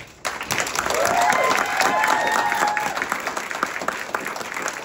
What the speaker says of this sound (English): So a round of applause, not only for you, but everyone in this room who helped you to get here today.